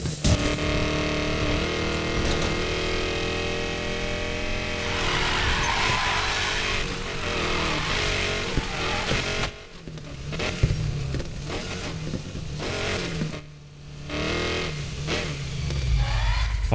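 A Lamborghini Aventador in the racing game Need for Speed Payback revs hard and sustains a loud, high-pitched engine wail with rises and drops, then cuts out briefly and returns with gear-shift gaps and a lower rumble.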